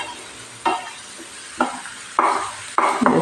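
Onions and spices sautéing in a pan over a low simmer flame for a cauliflower paya curry, with a steady soft sizzle broken by four scraping stirs of a spoon that each bring a brief louder burst.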